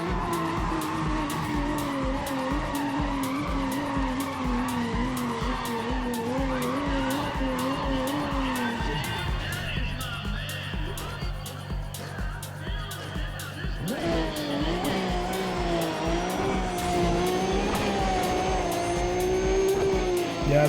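In Need for Speed ProStreet, a 900-horsepower street race car revs hard and squeals its tires. The engine drones loudly with rising and falling gear changes, and a voice speaks over parts of it.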